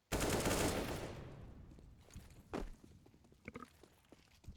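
P250 pistol shots in a Counter-Strike match on Inferno ring out, with a loud burst at the start followed by scattered single shots and footsteps-like thuds fading in and out.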